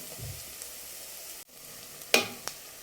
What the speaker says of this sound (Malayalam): എന്നിട്ട് നമ്മൾ ഇട്ട് കൊടുത്ത പൊടികളെല്ലാം നല്ലതുപോലെ ചൂടാവുന്നത് വരെ നല്ലതുപോലെ ഇളക്കി കൊടുക്കുക.